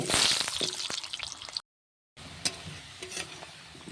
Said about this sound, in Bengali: তেল দিয়ে আমি আলুগুলোকে লাল লাল করে ভেজে নেব